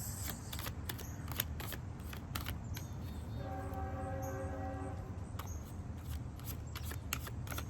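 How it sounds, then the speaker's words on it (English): A deck of tarot cards is shuffled by hand in quick riffling bursts and soft slaps, close and fairly loud, with a brief tonal hum in the middle. "Last shuffle, and I'm taking off the top."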